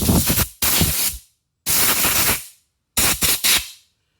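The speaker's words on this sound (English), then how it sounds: "then I'm gonna use air on this one and blow that out again" Compressed air blasts out a Ruger MK IV pistol during cleaning in three close, loud hissing bursts. The first and last bursts are split into short puffs, and there is silence between them.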